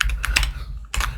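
A computer keyboard clatters through a short burst of several quick, close keystrokes with a brief pause between them, heard alone during a game session.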